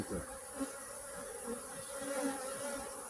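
Honey bees at a hive with a brood-disease condition hum in a steady, close, continuous buzz, with individual bees droning past in overlapping swells.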